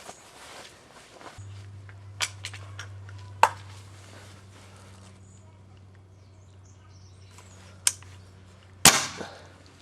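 An Air Arms Pro Sport .22 air rifle fires over a chronograph indoors, a sharp crack near the end standing out over a low hum, quiet clicks and some speech.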